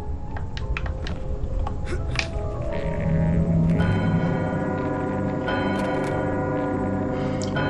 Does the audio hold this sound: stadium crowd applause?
no